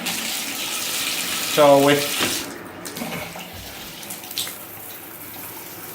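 Water runs from a Delta bathtub spout into the tub, a steady hiss that swells briefly with a gurgle and then thins to a faint trickle, with a brief spoken word.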